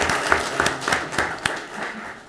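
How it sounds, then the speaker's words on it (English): An audience at a school award ceremony applauds for a 6th grade winner, giving a short burst of irregular clapping at moderate volume in a room. "let's give her a big round of applause for our 6th grade winner"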